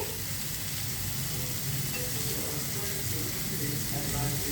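Bitter gourd cooking in hot oil in a pan gives a steady, dense sizzle that runs the whole time with a faint voice underneath.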